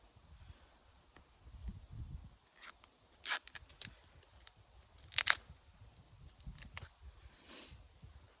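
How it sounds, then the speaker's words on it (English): Duct tape pulled and torn in short sharp rips outdoors during a deer hunt on public land, then pressed into place, with soft rustling and handling sounds between the rips. "So better get the duct tape on."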